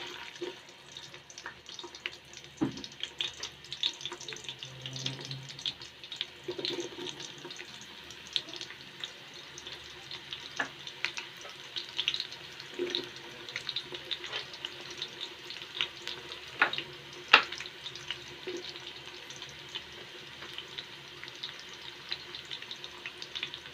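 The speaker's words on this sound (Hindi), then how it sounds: "ऑयल गर्म हो चुका है और अब हम इसमें प्याज डालते हैं" Onions added to hot oil sizzle and crackle in a pan for a chicken feet curry, a soft, uneven frying hiss with scattered pops and faint stirring scrapes, fairly quiet throughout.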